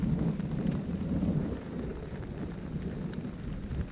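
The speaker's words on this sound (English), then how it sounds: "Not even the thunderstorms can get at us." A summer thunderstorm rumbles low and continuous while rain patters steadily on a canvas tarp overhead, a dense close drumming of drops over deep rolling thunder, with no voices.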